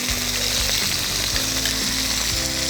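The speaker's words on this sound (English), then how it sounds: "While those are searing up" Bison bratwursts sear in a hot pan with a loud, steady sizzle and crackle that holds without a break, close and alone with no talk.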